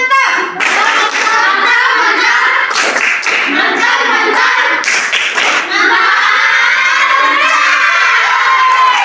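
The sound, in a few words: children clapping and cheering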